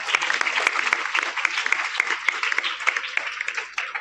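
A seminar audience in a school hall claps in a brisk, close burst of applause with many hands, steady and fairly loud for about four seconds and easing slightly toward the end.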